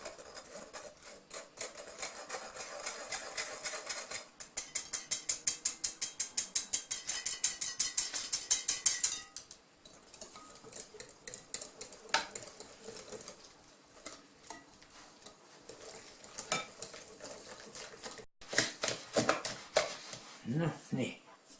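Flour being stirred by hand into a pre-fermented cardamom sweet bread dough in a bowl: a close run of quick, rhythmic scraping strokes, then slower, irregular scuffs and knocks, with a voice briefly heard near the end.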